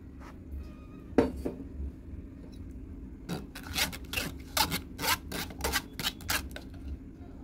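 A watermelon milkshake mixture is pushed through a sieve, with scraping and rubbing strokes that start sparse and then come in a quick run of rhythmic rasps, each close and fairly loud.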